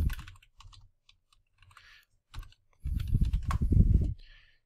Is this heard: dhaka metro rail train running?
no